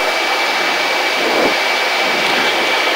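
Jet aircraft engine at full takeoff thrust during the runway roll, a loud steady roaring rush with a high whine that holds without a break and no voices.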